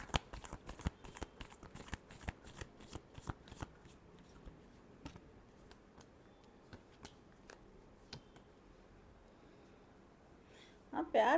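Tarot cards are shuffled in a rapid run of crisp riffling clicks over the first few seconds. The clicks thin into sparse taps, then a louder rustle closes it out, with no one talking.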